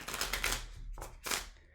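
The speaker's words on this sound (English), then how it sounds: "We can shuffle." Tarot cards being shuffled during a live reading. The clip has two quick riffling bursts separated by a short pause, close and fairly soft, with no talking.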